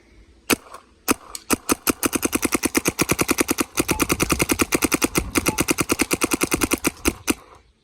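A DLX Luxe Idol paintball marker fires a few spaced shots, then a rapid string of sharp, loud pops in steady succession, each crack closely following the last, with no talking.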